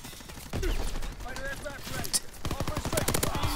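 Gunfire in a competitive Hardpoint match of a first-person shooter video game: scattered single shots, then a rapid automatic burst near the end, with an excited voice talking over the exchange.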